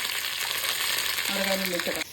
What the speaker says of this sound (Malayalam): കടുക് പൊട്ടി കഴിഞ്ഞാൽ നമുക്ക് അതിൻ്റെ അകത്തോട്ട് ഒരു ഉള്ളിയും ഒരു ഉണക്കമുളകും ഒരു കറിവേപ്പില അരിഞ്ഞേക്ക് കൊടുക്കാം